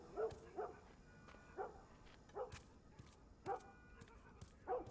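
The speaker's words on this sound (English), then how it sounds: "Hi, doggy." A dog in The Last of Us gives a series of short, fairly faint yips and barks, about six evenly spaced bursts over a quiet in-game background, with no talking.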